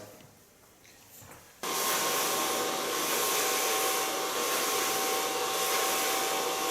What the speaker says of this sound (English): Gonna blow dry it with a medium large brush, starting on the long side.